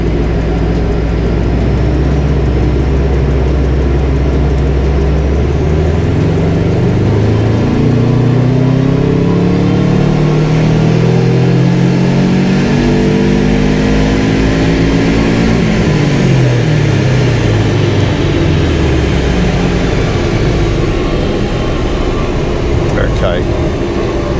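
A Subaru Impreza bugeye WRX with a free-flowing exhaust revs up through third gear on a dyno from 2000 rpm, with a steady loud engine drone whose pitch climbs and then falls back.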